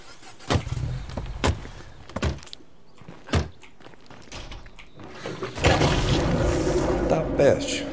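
Car in State of Decay 2 with door thumps and handling clunks in separate knocks, then an engine starts and runs as a rough, rising rumble in the last seconds.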